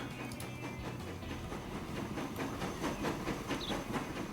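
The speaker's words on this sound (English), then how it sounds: "So now we should have that train come out of here." A train runs in the Transport Fever 2 video game, its wheels giving a rhythmic clickety-clack over a hissing, rumbling background, with occasional faint higher squeals, moderately quiet and steady.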